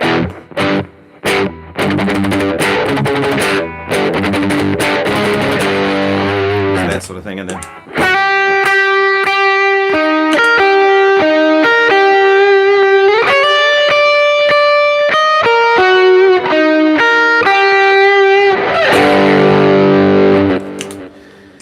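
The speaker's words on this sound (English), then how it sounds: "I asked the guitar player to play with heavy distortion and really loud" An electric guitar played loud with heavy distortion rings out in thick, sustained notes that shift pitch. Someone talks briefly before the playing starts and again as it ends.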